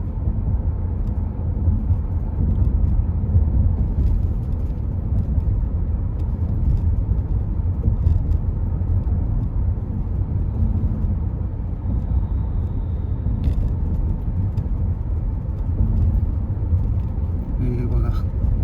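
A car drives at a steady speed through the 3–3.5 km undersea tunnel of Mumbai's coastal road, with a loud, constant low road and engine rumble echoing throughout.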